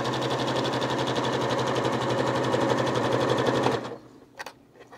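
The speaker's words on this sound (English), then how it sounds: "I'm doing it on a sewing machine today" A sewing machine stitches a stretchy knit neckband in a close, fast, even mechanical chatter that runs steadily for nearly four seconds, then stops abruptly, leaving near silence with a brief soft knock.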